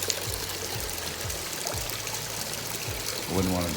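Cold tap water pours in a steady, moderately faint stream that swells slightly near the end, with a voice speaking briefly nearby.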